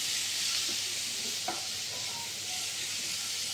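Boiled elephant foot yam (ol) frying in a pan with salt, a continuous soft sizzle with a brief clatter of stirring midway, no voices.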